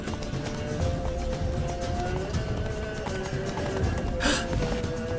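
Roach, the horse in The Witcher 3 video game, gallops with a steady, rapid clip-clop of hooves at close range, carrying on evenly throughout under faint background sound.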